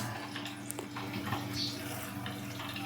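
Water running into a pot of ube yam for boiling, a steady close rushing splash with low hum throughout, no talk.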